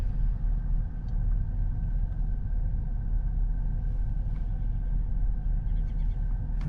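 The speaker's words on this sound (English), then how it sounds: "This car's going to go ahead and squeeze right through." A car squeezes through and turns around in a driveway, heard as a continuous low engine rumble, steady and moderately close, with no talking.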